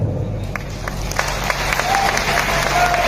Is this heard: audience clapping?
yes